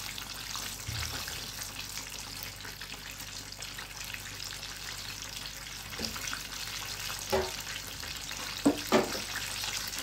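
Kentucky-style rabbit pieces frying in oil in a deep pan give a steady, moderately quiet sizzle that runs throughout, with a few sharper pops and clatters near the end.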